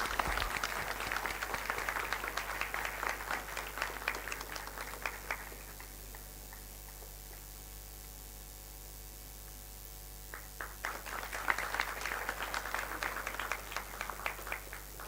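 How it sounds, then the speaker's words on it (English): Audience applause for a graduate at a Thapar Institute of Engineering & Technology ceremony, a run of brisk clapping that fades into a quiet stretch of hum and then swells again toward the end. "Applause please for Mitali."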